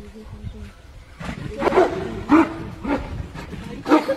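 Deep, rough grunting roars from a bear come in several bursts, growing louder and closer, with a faint voice in the background.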